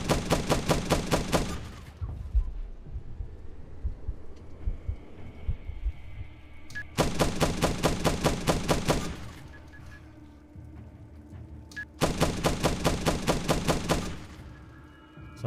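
Bursts of rapid turret gunfire from the video game The Last Stand: Aftermath, three dense mechanical volleys separated by quieter stretches of low rumble and scattered in-game noises.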